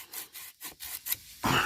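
A hand saw cuts through a hornbeam tree in the woods with a few quick rhythmic rasping strokes, close and clear, ending in a louder burst of noise.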